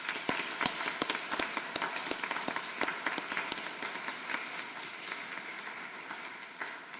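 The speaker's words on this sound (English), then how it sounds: "So I do think we should give them a round of applause." Audience at a medical college graduation ceremony applauding: scattered sharp claps, near and distinct, over a quieter bed of wider clapping that thins out toward the end.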